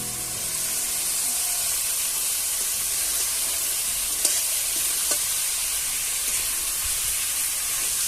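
Shredded cabbage stir-fried in spiced oil in a pan, a steady bright sizzle and hiss throughout with a couple of faint utensil taps, loud and close, no voices.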